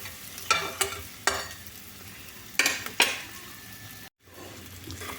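Fried capsicum and onion are scooped from a wok with a few scattered scraping clicks of a spatula over a faint sizzle, quiet and close, then a brief dropout.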